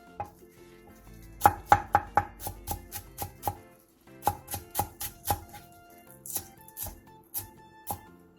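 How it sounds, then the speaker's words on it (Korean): A knife chops half a leek-like green onion, a cheongyang green chili and a red chili into fine rings on a board, with quick rhythmic bursts of crisp taps, a short pause, then another run of cuts. "대파 2분의 1개, 청양고추 1개, 홍고추 1개를 길게 반으로 가른 뒤 쫑쫑 썰어주세요"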